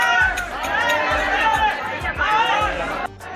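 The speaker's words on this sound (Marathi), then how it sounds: "दत्तात्रय गडावर भाविकांची तुफान गर्दी बघू शकता मित्रांनो" A dense crowd of pilgrims fills a Datta hilltop temple at Mahur during a 2024 Panchkoshi pilgrimage with loud, continuous chatter and overlapping voices close by, plus rhythmic low thumps in the background.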